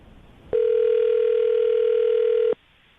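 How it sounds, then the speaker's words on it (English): A steady telephone dial tone sounds loud and alone for about two seconds while a call is placed on a morning radio show, with faint background noise before and after. "we're going to call her right now, see if we can get her on the phone"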